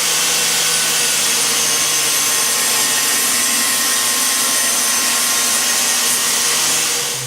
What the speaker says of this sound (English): we're going to get things going with our dust collection and saw